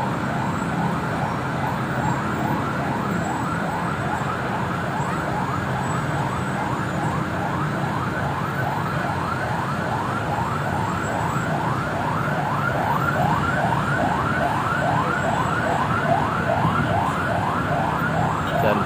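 A fire engine siren wails continuously in a rapid yelp pattern at a burning car beside a toll gate in Mampang, South Jakarta, steady and fairly loud over constant traffic rumble.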